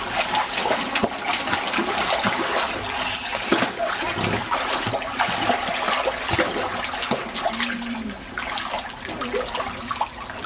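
Water gushes into a backyard pool, a continuous close splashing and burbling that holds steady throughout, with children's voices and a faint adult voice now and then underneath.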